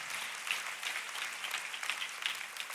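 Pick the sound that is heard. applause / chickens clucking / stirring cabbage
applause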